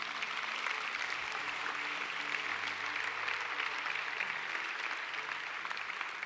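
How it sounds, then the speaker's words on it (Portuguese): A church congregation applauding during an evening service, a continuous even wash of many hands clapping at a moderate distance, with a faint low tone held underneath. "Quem pode dar um aplauso para o Senhor Jesus nessa noite?"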